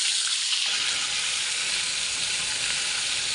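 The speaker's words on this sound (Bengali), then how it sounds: "এবার পেঁয়াজটা দিয়ে দিচ্ছি" Onion sliced into hot oil left over from frying chili chicken, with fresh oil added, sizzles loudly: a dense, steady hiss that jumps up at the start as the onion hits the pan, with no talking.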